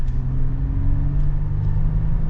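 A 2022 Toyota 4Runner TRD Sport accelerating, a steady low engine drone heard from inside, fairly constant and close with no talk.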